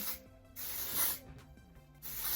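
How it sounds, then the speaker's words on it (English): Hissing aerosol dry shampoo sprayed onto a wig in a few bursts, close and fairly loud, with brief pauses between the spurts. "we're gonna go in with some dry shampoo"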